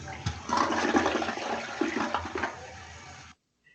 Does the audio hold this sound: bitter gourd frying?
no